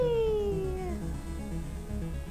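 A single cat meow sounds close and clear, a drawn-out falling cry over a quiet, low background.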